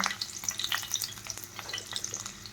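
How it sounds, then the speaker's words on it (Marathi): Green chili, bay leaf and a few curry leaves sizzle and crackle in hot oil, with fine popping bursts over a steady hiss, close and fairly quiet with no voices. "तेल गरम झालेलं आहे, त्यामध्ये आपण हिरवी मिरच टाकणार आहोत, तेजपत्ता, अगदी थोडासा कढीपत्ता"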